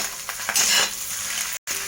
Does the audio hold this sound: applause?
no